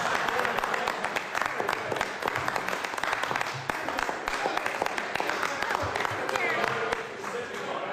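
Members of the New Zealand Parliament applauding in the debating chamber during a pre-election adjournment debate: sustained, dense clapping with sharp individual slaps that runs evenly for about eight seconds.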